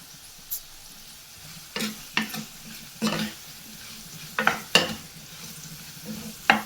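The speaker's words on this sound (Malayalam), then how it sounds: "കുറച്ചും കൂടെ ഫ്രൈ ആവാനുണ്ട് പൊട്ടറ്റോ ഫ്രൈ ആയി വന്നിട്ടുണ്ട്" Potatoes frying in a pan for an aloo palak sabji, stirred in several distinct scraping bursts over a low, steady sizzle, fairly close and with no talking.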